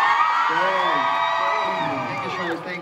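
Crowd at a K-pop concert on a band's 2024 US tour in Indianapolis cheers and whoops in a sustained, loud wash of high voices, swelling and easing over a few seconds.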